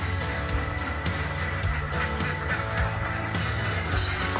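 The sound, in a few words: ducks on a duck layer farm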